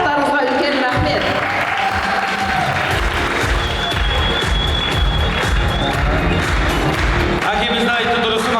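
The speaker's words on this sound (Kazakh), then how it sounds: "шапалақ салып жатқан барлықтарыңызға үлкен рахмет" Guests at a Kazakh wedding celebration clap. The applause is dense and continuous, and a voice speaks over it throughout.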